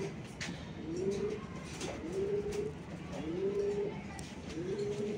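A racing pigeon cooing near at hand, four drawn-out rising coos spaced about a second apart over a faint airy background hiss.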